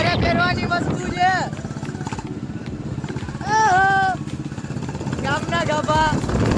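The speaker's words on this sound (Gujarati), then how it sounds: "આગળ ઓલો બુલેટ લઈને જાય છે" A Royal Enfield Bullet-type motorcycle rides ahead in traffic, its steady engine drone running throughout, close and fairly loud, with people talking over it and horn-like tonal bursts rising at intervals.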